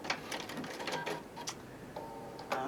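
A sewing machine stitches backwards through a quilted cosmetic bag, giving a quick run of close, light mechanical ticking and whirring in short bursts.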